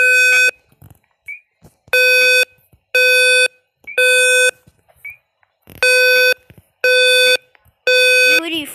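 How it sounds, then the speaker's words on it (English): A loud airport fire alarm during testing blares in repeated half-second bursts with short gaps between them, a harsh buzzing tone sounding close by. "The fire alarm."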